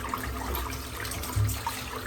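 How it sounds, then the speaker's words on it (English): Tap water runs steadily while soap is rinsed off after a wet shave, a continuous close splashing flow with one brief louder surge partway through and no talking. "Just rinsing the soap out."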